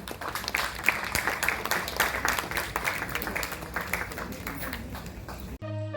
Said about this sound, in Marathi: त्या मॅडमचा सत्कार करताना एकदा जोरदार टाळ्या वाजवा